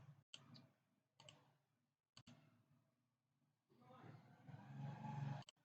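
A few sharp computer mouse clicks on a print-receipt button during an online driving licence application, spaced about a second apart, fairly faint, followed by a louder stretch of background sound.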